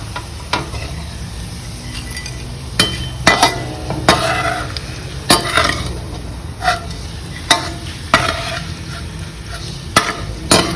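Steady sizzle of small fish frying in oil with intermittent sharp clinks and scraping of a utensil against a pan, close and moderately loud, no talking.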